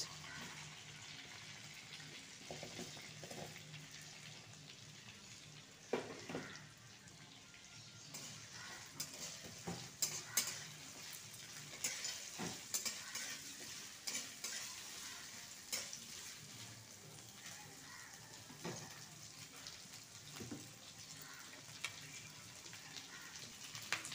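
Large chunks of onion frying and being stirred in a pan for chilli paneer, a steady sizzle running throughout with occasional scrapes and clinks of stirring, fairly faint and close.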